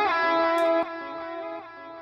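Distorted electric guitar fills played through an Echo Boy delay effect, with short sustained notes whose echoes hang and fade away in steps after each phrase.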